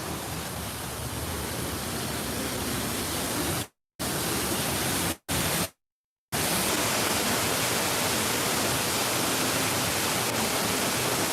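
A rushing waterfall at Disney's Animal Kingdom roars as a loud, steady wash of noise, broken by a few brief dropouts before resuming at full strength.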